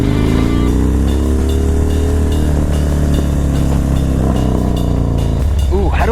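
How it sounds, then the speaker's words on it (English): Motorcycle exhaust revving and echoing through downtown San Diego streets, a loud continuous engine drone with rising revs toward the end, close to the rider. "Exhaust echoes so beautifully."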